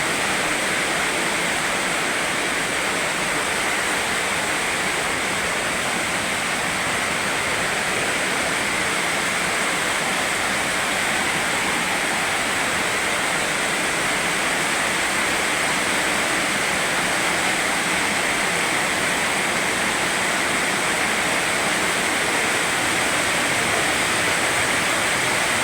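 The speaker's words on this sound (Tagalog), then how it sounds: "Grabe ang buhos, napakalakas ng buhos ng ulan." Heavy rain pours down at night in Dasmariñas, Cavite, falling onto a metal roof as a dense, steady roar that holds at full strength for the whole stretch without letup and with no voices.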